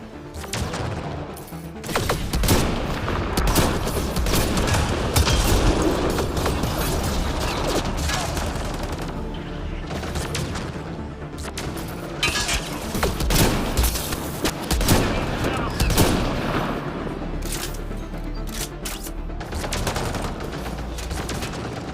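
Loud, sustained automatic gunfire with heavy impacts and occasional booms in the sci-fi shooter Mass Effect Andromeda, firing in dense bursts with short lulls.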